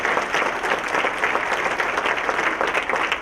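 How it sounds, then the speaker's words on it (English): An audience at a business appreciation breakfast claps steadily, a dense sustained round of applause filling the room with no voices rising above it. "A round of applause for Courtney and Brandon Maricole."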